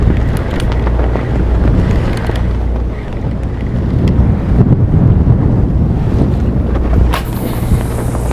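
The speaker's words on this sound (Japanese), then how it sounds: "いい風が吹いてる。" Strong wind buffets a microphone aboard an offshore fishing boat off Taiwan, with a continuous roar of gusts mixed with engine rumble and water wash.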